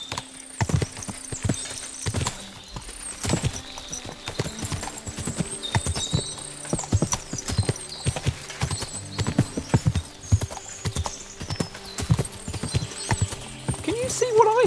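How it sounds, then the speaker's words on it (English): Many horses clip-clop in Kingdom Come: Deliverance II, with steady overlapping hoofbeats on hard ground and an occasional whinny, heard under spoken dialogue and faint background music. "What a lot of horses!"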